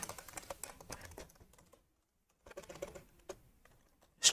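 Computer keyboard typing in bursts of quick clicks, a short pause in the middle, then more keystrokes ending in a sharp tap, close and fairly clear, while a command is entered during malware analysis work.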